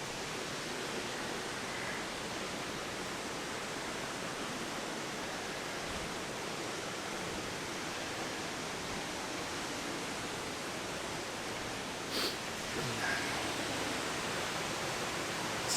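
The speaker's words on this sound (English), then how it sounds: "great waterfall, really great waterfall" Greeter Falls pours in a continuous, even roar of falling water, a broad steady hiss with no breaks, heard from a moderate distance.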